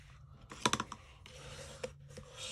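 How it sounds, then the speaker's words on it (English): Paper being folded and creased with a bone folder during card assembly: a quick cluster of crisp clicks and scratchy taps, followed by one more sharp tap and light rustling, close and fairly quiet, with no talking. "Let's fold this one first this time. Bone folder comes out."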